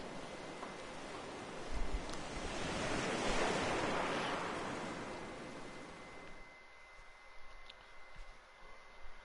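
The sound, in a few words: ocean waves in the video game Elden Ring Nightreign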